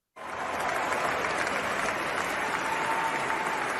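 A large audience bursts into sustained applause for Supreme Court Justice Amy Coney Barrett, starting abruptly and holding a loud, dense, even roar of clapping with some crowd noise beneath.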